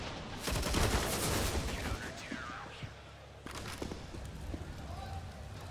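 Gunfire in the game CS:GO in a Fnatic vs. Liquid match on Mirage, rapid bursts of shots crackling loud and dense over several seconds beneath an excited commentator talking.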